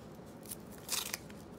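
A 1988 Topps or 1990 Fleer baseball card rack pack is opened with a few quiet crinkling, snipping bursts, the loudest cluster near the end, against a hushed room.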